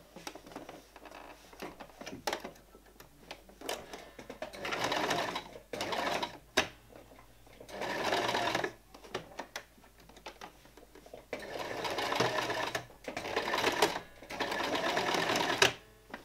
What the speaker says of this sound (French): je vais vous montrer cette étape à la machine à coudre